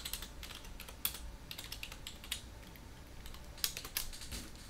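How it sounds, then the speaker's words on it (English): Close, moderately quiet typing on the keyboard of a custom-built Pentium 4 Antec gaming PC, irregular clicks with a handful of sharper, louder key strikes and short pauses, no speech. "I'm not used to this keyboard. This keyboard's killing me."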